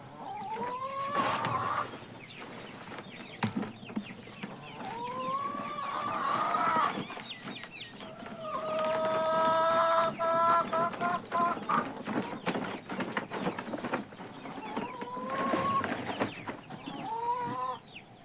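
Chickens and roosters in a garden, five of them cockerels, give repeated rising clucks and drawn-out calls at moderate distance over a steady outdoor background.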